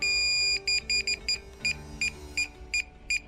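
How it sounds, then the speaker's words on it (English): A DJI Mavic Air 2 remote controller beeps in a steady series of short, high electronic tones, about a dozen evenly spaced beeps close up over a faint background tone. "The remote controller will start to beep after 2 seconds."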